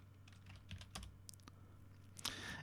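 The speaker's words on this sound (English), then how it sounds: "I'll just type in idle home -autosave.txt." Keys on a computer keyboard are typed in short irregular clicks and taps, close but quiet, over a low steady hum.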